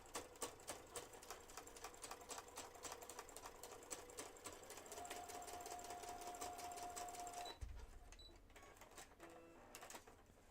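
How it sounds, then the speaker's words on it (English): A sewing machine runs steadily, stitching a line through a junk journal folio with a fast, even mechanical rhythm close by, then stops with a brief thump and a few small handling clicks. "I want to do a line of stitching here, so I'm going to do that right now."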